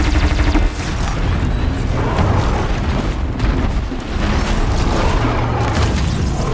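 A robotic machine creature blows up in Horizon Zero Dawn, a loud, dense roar of booming blasts and crackling debris running continuously with a brief dip partway through.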